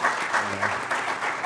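Brief applause from the audience at a business forum, steady clapping for about a second and a half with a faint tonal hum underneath.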